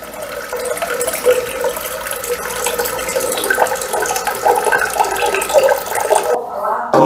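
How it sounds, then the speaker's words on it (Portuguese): Chilled filtered water for a biga pre-ferment is poured in a steady, continuous stream, loud and close, before cutting off abruptly near the end, with no voices. "aqui eu vou trabalhar com água gelada filtrada."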